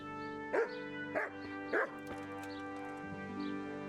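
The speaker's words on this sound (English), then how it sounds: "that's a lot of barking" A dog in the Kingdom Come: Deliverance video game gives three loud, evenly spaced barks, followed by fainter yips and whimpers over a steady background hum.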